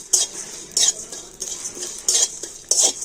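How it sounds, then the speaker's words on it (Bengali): Spices being stirred and lightly fried in a pan after two dried red chillies, with repeated scraping and clinking strokes of a utensil against the pan over a soft background sizzle, close and fairly loud, no talking. "তো মশলাগুলোকে একটু হালকা করে ভেজে নেব।"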